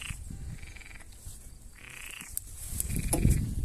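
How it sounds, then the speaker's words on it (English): Frogs croak in repeated drawn-out calls at a garden pond, with bursts of bird chirps and some rustling close by toward the end. "Hear the frogs?"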